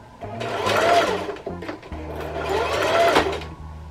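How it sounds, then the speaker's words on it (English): A sewing machine stitching a pixie wig runs in two bursts of rapid stitching, its motor whirring close by with a short pause between runs. "I'm literally just gliding with the sewing machine"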